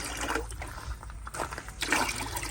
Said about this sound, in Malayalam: 3 ടാങ്കിനകത്തും ഈസ്റ്റ് ഒന്ന് ഒഴിച്ചു കൊടുക്കാം.